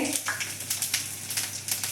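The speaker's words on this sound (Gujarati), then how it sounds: "હવે આપણે આની અંદર બધા જ મસાલાનો વઘાર કરી લઈશું" Cumin and asafoetida sizzle in hot oil, crackling with quick bursts of popping, close and fairly loud, over a constant low hum.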